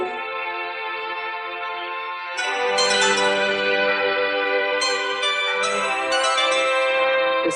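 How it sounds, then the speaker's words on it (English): A church bell rung by hand to bid someone farewell, heard from a distance as sustained, ringing tones that swell anew with fresh strikes every couple of seconds, alone with no voices. "The sound of a distant bell floats on the breeze."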